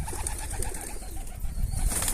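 Pigeon cooing comes from a bird outside its loft during a catching attempt, low soft coos repeating close by against scuffling and background noise.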